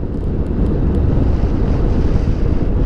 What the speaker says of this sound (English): straight away you can feel the wind just coming back into your head